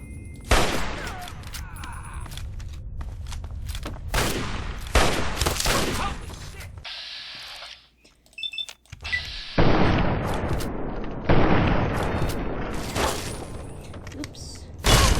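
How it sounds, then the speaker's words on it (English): Repeated bursts of gunfire from the Fallout 3 video game, loud sharp volleys in quick succession with a brief lull midway before the shooting resumes. "Who's shooting at me?"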